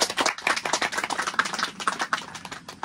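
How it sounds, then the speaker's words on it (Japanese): Dense, rapid clapping from a small audience at a forest railway driving-experience gathering, a steady close patter of many hands with no voices. "拍手"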